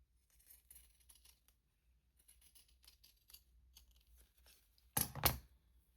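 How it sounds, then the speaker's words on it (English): Scissors snip through very thick linen fabric, cutting it into tiny bits: a few soft, scattered cuts and crinkles, then one loud, close, crunchy snip near the end. "A little bit of very thick linen fabric, and I'm going to cut this into tiny little bits"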